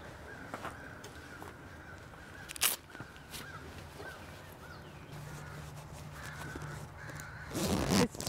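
Crows or blackbirds cawing while mobbing a hawk overhead outdoors, a few separate harsh calls spread through the stretch, moderately distant, with a louder burst of noise near the end.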